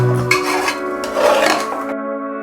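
A spoon scraping and clinking against a metal cooking pot while coconut cumin paste is stirred into a mixture, bright metallic rasps and rings close up with no talking.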